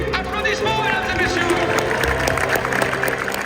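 Crowd applause and cheering at the Le Mans 24 Hours hyperpole winners' trophy celebration, a steady continuous clapping wash under a loud announcer's voice throughout.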